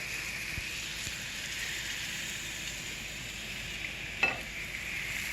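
Crepe batter sizzles steadily in a hot pan, a continuous soft frying hiss with one brief sharp tap near the end and no speech.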